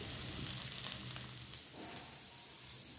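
Chopped onion, garlic and green chili frying in oil for a nihari tempering, a close, steady sizzle with soft crackling that holds evenly for a few seconds.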